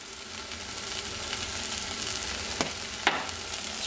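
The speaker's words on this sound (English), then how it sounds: "I've added some chili powder and the curry leaves, letting that sizzle." Steady, close sizzling of chili powder and curry leaves frying in hot oil, with a couple of sharp pops near the end.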